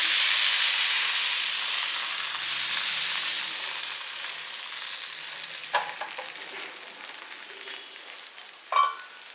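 Varagu rice appam batter sizzling in a hot appam pan, a bright steady hiss that swells and eases, with a few light clinks and scrapes toward the end.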